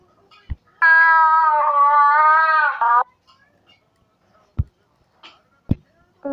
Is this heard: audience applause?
no